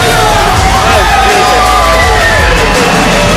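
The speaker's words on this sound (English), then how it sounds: "You hear the crowd loaded" A wrestling crowd at a live independent show roars loud and dense, a sustained wall of cheering and shouting with individual yells rising out of the noise.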